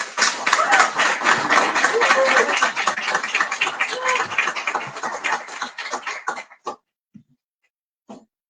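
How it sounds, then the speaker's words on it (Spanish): Audience applause at a book presentation in a bookstore, a dense, close round of clapping that holds steady for several seconds, then thins into scattered claps and stops. "Un aplauso para ella, por favor."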